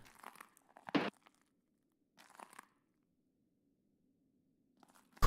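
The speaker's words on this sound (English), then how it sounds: "God, this glass crunching is so loud." Footsteps crunching over broken glass in the video game Escape From Tarkov: a few short, sharp crunches spaced apart with silence between them, alone with no talk.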